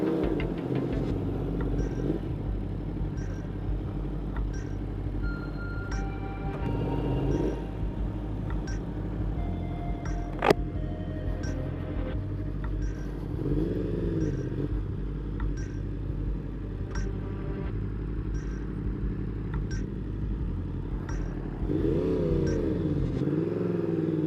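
A Suzuki GSX-R1000R and a 2021 Yamaha R1 with a Woolich tune ride on the road, their engines giving a steady droning rumble with occasional rising revs and a faint tick repeating throughout.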